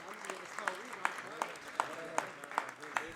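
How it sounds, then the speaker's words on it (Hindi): Steady, rhythmic clapping from an audience at a Hindi kavi sammelan poetry gathering, sharp even beats repeating about every few tenths of a second, moderately close, with voices talking over it. "तालियां दोस्तों,"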